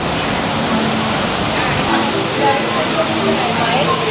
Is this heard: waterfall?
yes